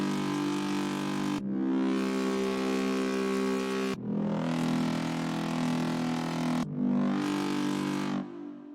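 Dragon sound effect preset from the DOOMSDAY Serum pack: three long, loud, raspy growling roars in a row, each cut off abruptly before the next, with no talking.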